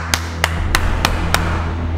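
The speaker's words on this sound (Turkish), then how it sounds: "Ezel'e alkış." Five slow, evenly spaced claps from a single person, crisp and close, sounding sarcastic over a steady low background hum with no talking.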